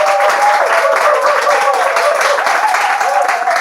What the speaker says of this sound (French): Est-ce qu'on peut applaudir notre vainqueur?